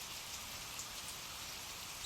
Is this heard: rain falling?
yes